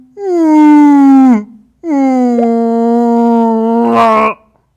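A voice imitates a whale song with two long, loud, mournful sustained moans, the second ending in a rising swell, delivered alone without other speech.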